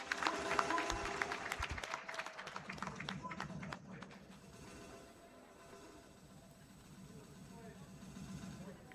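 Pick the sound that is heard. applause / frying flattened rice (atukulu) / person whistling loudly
applause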